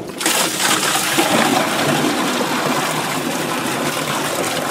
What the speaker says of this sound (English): As soon as we plug this in, it's going to start pumping.